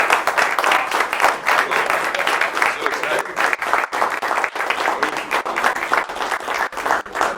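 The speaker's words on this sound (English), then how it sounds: "Will you please join me in a big round of applause for Stephen Cook?" Warm round of audience applause at a policy talk, sustained dense clapping from a room of listeners, loud and continuous with slight swells, and voices faintly audible underneath.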